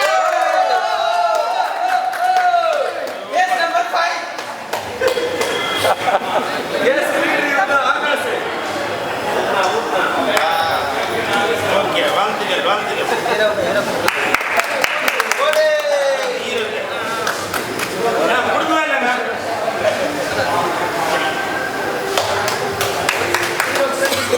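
A crowd at a cake cutting during a public movie review gathering claps and cheers loudly and continuously, with voices shouting and chattering throughout the noisy applause.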